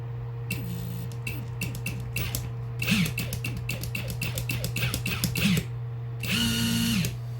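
A Hercules cordless impact driver whirs in short bursts, stopping and starting several times with rapid clicking hammering, then one longer run at the end.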